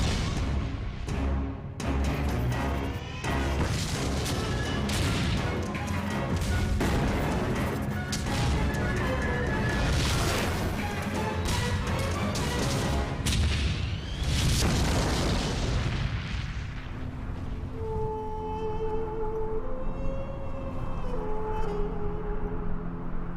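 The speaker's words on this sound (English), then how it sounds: "Two tank armies clash on a remote strip of desert." Armored warfare in open desert, with dense, continuous booming explosions and heavy crashes from a tank battle that rumble for most of the stretch before easing into lighter background noise with tonal hums.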